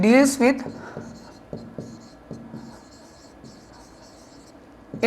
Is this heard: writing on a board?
yes